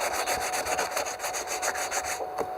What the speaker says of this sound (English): So I'm just taking my sanding block, a piece of sandpaper, put that on there, and give it a nice sand.